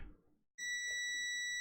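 A digital multimeter gives a continuity beep as its two probe leads touch: a single sharp, steady electronic tone starting suddenly after a brief quiet and holding to the end.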